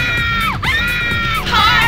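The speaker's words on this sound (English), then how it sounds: "Is that not weird and terrifying screams?" In the Night Trap video game, a cluster of identical shrill screams repeats in quick succession, swooping down and back up over a steady, noisy party din.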